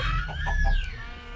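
A chicken in Minecraft gives a short run of clucks, loud and close, set against the game's background sound.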